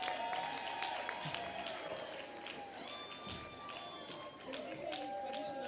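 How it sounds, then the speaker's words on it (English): Audience applause at a gala dinner after a group in traditional attire from the Comoros is presented, a lively crowd clapping with voices and movement mixed in. "Give them a round of applause."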